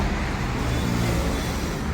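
A steady, rumbling engine of a new 5620 tractor drones continuously at close range, broadband and unchanging, with no voices over it.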